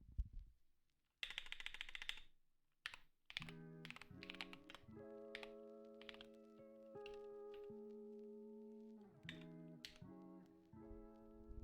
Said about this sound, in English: This is the sound of my keyboard.